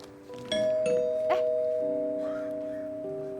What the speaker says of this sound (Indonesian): Itu bel barusan?